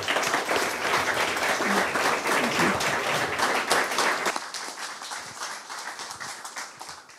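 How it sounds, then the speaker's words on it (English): Audience applause for the panelists at the close of an international humanitarian law and cyber operations event, a dense steady round of clapping that thins and fades over the final seconds. "I'd actually like to give our panelists a round of applause"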